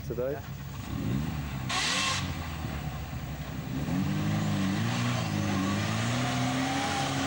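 A rally car's engine revs and strains through rough off-road terrain, loud and continuous with pitch rising and falling, while someone talks over it.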